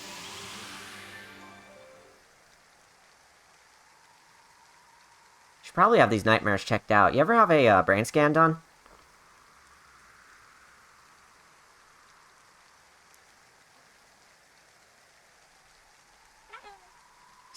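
Steady, soft rain hiss from Kirby's Return to Dream Land runs under a person talking, briefly swamped by a loud burst of game sound in the middle before settling back to a quiet patter.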